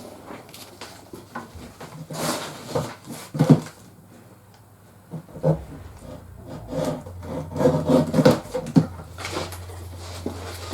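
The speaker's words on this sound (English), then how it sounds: "I'll take just a little slither off there." Paper trimmed with a cutter or blade to take a thin sliver off the edge, a soft, close rasping and rubbing with a few sliding strokes, steady and low in level.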